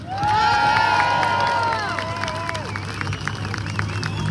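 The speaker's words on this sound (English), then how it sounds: "another big round of applause for Bounty Food" A large outdoor rally crowd in Melbourne cheers and applauds, with loud whoops and shouts rising over dense clapping that fades slightly but continues, and scattered voices calling out.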